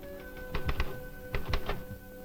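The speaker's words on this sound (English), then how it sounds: "types out its reports on an automatic typewriter" An automatic typewriter of the Universal Telereader types out laboratory reports: two quick bursts of sharp mechanical key strikes, three or four hits each, clattering at moderate volume over a steady machine hum.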